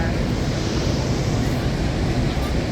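Niagara Falls pours in a dense, steady roar of rushing water, broadband and constant, heard up close without pause.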